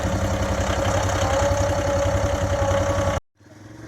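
A tractor engine idles steadily and loud, close by, while a small 25-bushel ground-driven tow-behind manure spreader is loaded, then cuts off abruptly near the end, leaving a quieter background.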